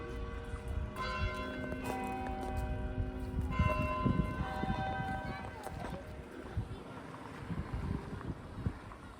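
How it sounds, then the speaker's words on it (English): Church bells peal with repeated ringing tones at a grassy green on a dry day. Wind and footsteps sound close by, and there are bits of talk. "Bells are going."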